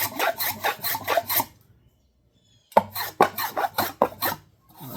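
A hand tool rasps a 45-degree chamfer into the edge of a wooden desktop organizer, giving a burst of rhythmic scraping strokes, a pause, then another quick run of firm strokes, close up.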